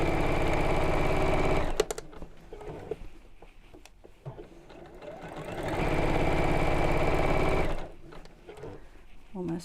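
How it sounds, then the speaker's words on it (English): A sewing machine sews a quilted drawstring bag in two sustained close runs of rapid stitching, separated by a quieter pause with soft handling noises while the fabric is reversed and repositioned. "carry on sewing until I get to the beginning"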